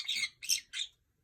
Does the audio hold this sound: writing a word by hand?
no